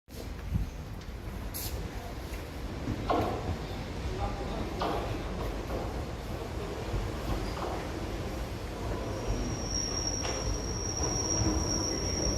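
A train rumbles steadily, with a constant low roar and a thin high squeal of wheels on rails running through it.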